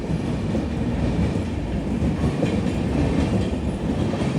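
A passenger train, likely the Navjeevan Express, rumbles steadily past near Gudur Junction on the line from the Chennai side, with continuous wheel and carriage noise and faint clickety-clack throughout, no voices.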